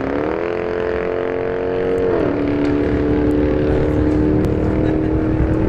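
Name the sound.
drag race between a turbo Cruze and a Durango SRT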